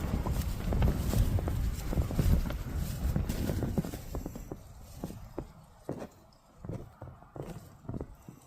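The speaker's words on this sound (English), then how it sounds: "Sounds like something's outside. They're walking about." Footsteps walking outside a tent while camping, a series of irregular thuds and crunches close by over steady wind noise, continuing at an uneven pace.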